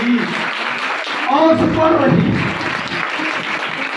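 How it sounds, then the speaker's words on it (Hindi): A church congregation at a Sunday service bursts into sustained applause, a dense, steady wash of clapping that fills the room for the whole stretch while a preacher keeps speaking over it. "कलीसिया शुक्रगुजारी दियां तालियां खोल के बजनियां चाहिए"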